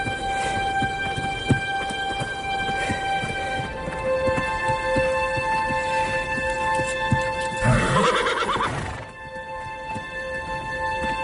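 A horse snorts and whinnies while its hooves clip-clop in a steady walking rhythm, with a louder neigh swelling near the end against a background of sustained musical tones.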